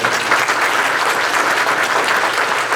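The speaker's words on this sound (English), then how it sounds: "Everybody give an applause for our" Audience applause at a veterans' presentation, a loud, dense and even burst of clapping filling the whole moment without speech.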